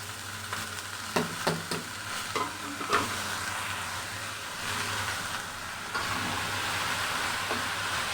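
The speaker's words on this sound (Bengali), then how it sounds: "এখন আমি মূলা শাকগুলো দিয়ে দিচ্ছি।" Chopped, pre-washed radish greens tipped into a hot pan of oil with onion, garlic and chillies, a few sharp clattering hits as they land and get stirred, then a steady low sizzle under a constant background hum.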